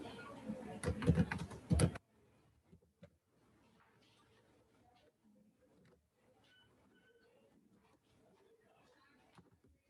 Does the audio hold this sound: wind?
no